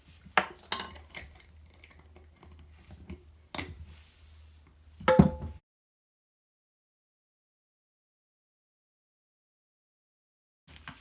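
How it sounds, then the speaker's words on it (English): A metal spoon scrapes and clinks against a jar while sugar scrub is spooned in, a few light, close taps and scrapes over about five seconds, followed by silence. "You can go ahead and spoon that into one of your jars."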